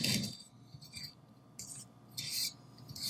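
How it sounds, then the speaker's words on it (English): A spatula scrapes around a bowl of vanilla cupcake batter in several separate rasping strokes, close and moderately loud with quiet pauses between them and no talking. "Just give it a good scrape."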